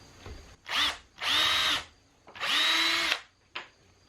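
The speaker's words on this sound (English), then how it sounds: "To make attaching these easier, I'm going to pre-drill." A power drill pre-drilling wood spins up in three separate bursts, the middle and last ones longer, with a brief final blip; close and clear.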